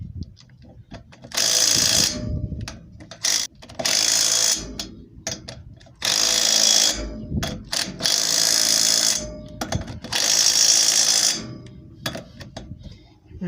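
A torque wrench clicks through bursts of ratcheting as it tightens the lug nuts on a trailer wheel after a brake replacement, with several loud, close runs separated by short pauses.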